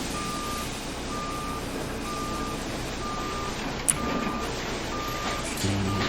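A long Kenworth W900 Limited Edition truck in American Truck Simulator sounds a high, evenly spaced series of reversing beeps over a low engine idle, with one sharp click partway through and a slight rise in rumble at the end.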